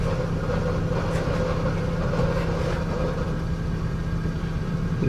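Transmission noise from a car with the clutch released, a steady low mechanical drone with the engine running, continuous and close, with no talk.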